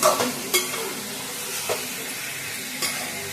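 Chicken liver fry sizzles in a pan while a utensil scrapes and clinks against the metal in a few distinct strokes, close and moderately loud over a constant frying hiss, with no talking.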